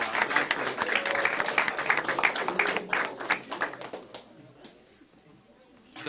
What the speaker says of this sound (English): So start with a round of applause.